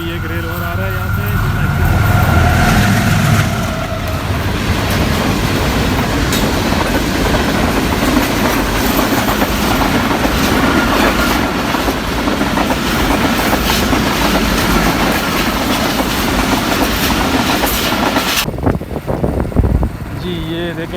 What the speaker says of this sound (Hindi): अभी एक रेल और आ रहा है यहाँ से